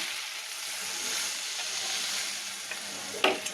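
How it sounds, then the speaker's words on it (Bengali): Hot water poured into frying spice paste in a pan, a broad steady sizzle and hiss close by, with a couple of sharp clinks near the end and no talk. "এই যে বাটিতে গরম জল করা আছে গরম জলটা ঢেলে দেবে"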